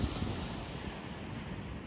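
Ocean waves and wind at Old Orchard Beach, Maine, form a faint, steady broadband wash with a low rumble underneath and no distinct breaks.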